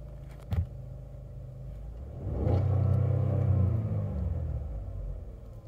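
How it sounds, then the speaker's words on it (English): A 2019 GMC Acadia Denali engine revs up hard and holds against the rev limiter, a loud steady droning roar after a brief quieter idle, with no talking. "Little bit of a rev limiter right there, but it sounds nice and strong."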